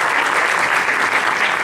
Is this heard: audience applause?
yes